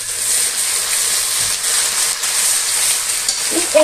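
Onion sautés with garlic paste, ginger paste and cumin-coriander paste in a hot pan for chicken curry, giving a close, continuous frying hiss with stirring scrapes throughout.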